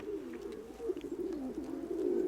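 Loft pigeons keep up a continuous stream of soft, rolling coos, close and unbroken, with faint higher chirps scattered over them.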